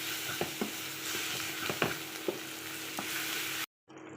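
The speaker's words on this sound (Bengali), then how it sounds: "মশলাটা ভালো করে কষিয়ে নেব" Ground cumin, coriander, chili, turmeric and chili flakes stir-fried in a pan, a steady close sizzle broken by regular spatula scrapes and clicks, then a brief drop to silence near the end.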